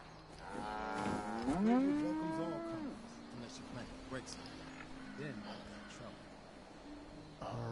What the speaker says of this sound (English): Bessie just went moo.